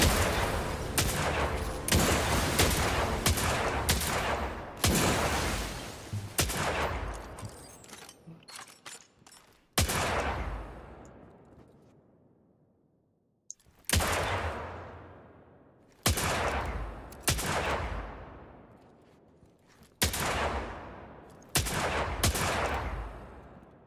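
Enemy gunfire in a video game comes in repeated bursts of rapid shots, loud and dense, broken by short pauses and one longer lull as shots trail off, then resuming in regular clusters.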